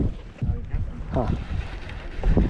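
Wind gusts buffet the microphone on a fishing boat out on Lake Whitney in late fall, a steady low rumble with soft water sounds, and people talk over it.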